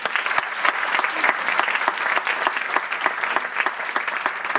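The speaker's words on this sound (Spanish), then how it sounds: "les pido un fuerte aplauso" An audience at a legal and notarial seminar in Mexico City applauds loudly and steadily, a dense wash of many hands clapping with distinct sharp claps standing out over several seconds.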